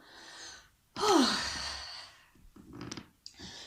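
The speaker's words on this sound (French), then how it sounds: "je vous invite à prendre une bonne respiration pour vider un maximum d'air des poumons" A person takes a deep breath and then lets a long, audible sigh of air out of the lungs, followed by softer breathy exhales, close and quiet.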